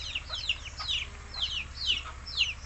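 Black Australorp chickens clucking in short, repeated bursts, several birds close by over a low steady background hum.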